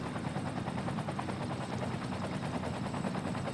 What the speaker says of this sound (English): here you came, with your whirring blades